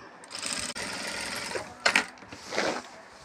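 A sewing machine stitches a bag woven from korai grass, a loud close mechanical whir running for about two seconds, then a few short bursts and clunks as it slows.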